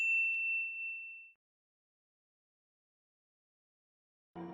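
A single bright notification bell ding rings out clearly and decays over about a second, followed by silence and then a short burst of other sound at the end.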